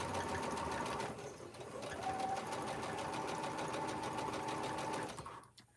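A sewing machine runs steadily as it stitches around an Anita's Arrowhead quilt block, a close, even whirring with a short pause near the start and a quick fade at the end.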